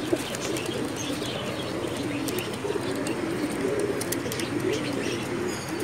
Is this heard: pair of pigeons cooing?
yes